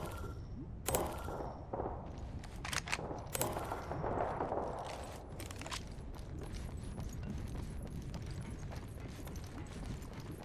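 Gunfire in the battle royale shooter Apex Legends: sharp shots and bursts crackle over a dense, steady bed of game noise, with scattered distant reports and clatter running throughout.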